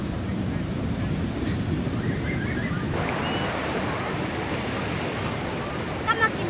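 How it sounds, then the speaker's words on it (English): Ocean surf at the beach at Umhlanga by the lighthouse, a steady broad wash of breaking waves with wind buffeting the microphone throughout, faint voices in the background. "Just came to see the ocean."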